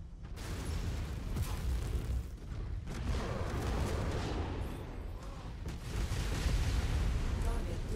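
A tank in MechWarrior 5 is blown apart by a series of heavy explosions and booming weapon fire, loud and rumbling, with several bursts spread across the stretch and a voice talking over them.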